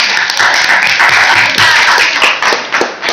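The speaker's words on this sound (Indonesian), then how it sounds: "Tepuk tangan buat kelompoknya" Applause and clapping from a classroom of students for a student group during a math lesson, a dense, steady burst of many hands lasting a few seconds, fairly loud and close.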